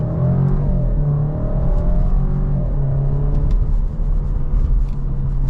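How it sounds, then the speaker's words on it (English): A 2024 Alfa Romeo Giulia Competizione with a 2.0 turbo engine accelerating at full throttle in dynamic mode, heard from the cabin as a loud, continuous engine drone that climbs in pitch through the gears over a steady road rumble. "we'll put it into dynamic mode. I'll give this guy in the Camry some room, and we'll just mash the throttle and see how fast we can get"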